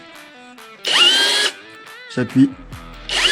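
A cordless battery drill-type setting tool drives a metal cavity anchor into BA13 plasterboard, with loud close whirring bursts and ratcheting between them, plus a brief spoken word.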